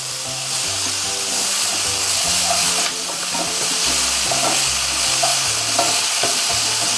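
Tomato paste and paprika are stirred into a Hungarian lamb goulash, and the pot gives a loud, continuous sizzle with scraping strokes over soft background music.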